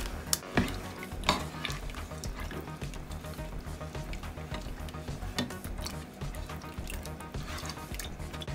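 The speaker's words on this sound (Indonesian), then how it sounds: "So, lepas tu masukkan rebung." Pre-boiled bamboo shoots go into a frying pan with smoked beef in a spicy coconut-milk dish and are stirred, giving a steady wet sizzle broken by several sharp spatula scrapes and clanks, with no talking.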